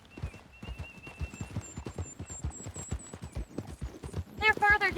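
Horse hooves clop at a steady, rhythmic pace in Red Dead Redemption 2, close and moderately loud, under people talking, with a horse whinny near the end.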